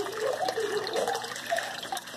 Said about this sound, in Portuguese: Joga água aqui dentro da caixa d'água.